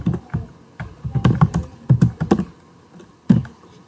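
Typing C++ code on a computer keyboard, an uneven run of close, crisp keystrokes in quick clusters with brief gaps, with no talking.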